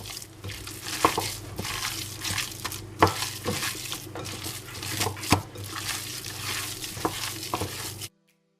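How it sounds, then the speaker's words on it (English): Ground meat mixture for baked Italian meatballs worked by hand in a bowl, giving a steady wet squelching and stirring texture with occasional soft slaps and thumps, close and fairly quiet, with no voices. "I'm done mixing the meat."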